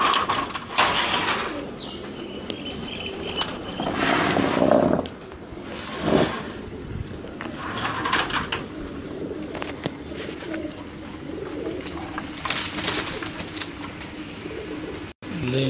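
Pigeons belonging to Ustad Malik Mohkam Khokhar coo in soft, repeated bursts against steady background noise, with occasional louder calls and a brief sharp knock near the end.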